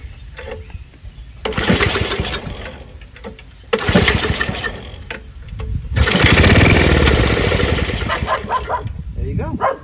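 A Craftsman track drive snowblower engine cranks over with the choke closed, three loud bursts of cranking, the last longer and more sustained, with a dog barking and voices in the background.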